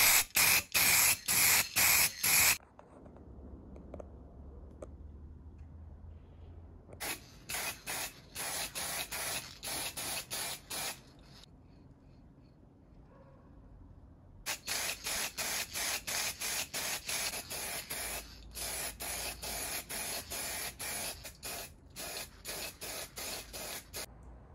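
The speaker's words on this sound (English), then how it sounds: "I cover everything by clear coat, fork, frame, wheels, everything I clear coat." Clear coat sprayed from an aerosol can onto a kid's bike fork, frame and wheels, heard as several long, loud bursts of hiss with short pauses between them and quiet gaps around the middle, with no talking.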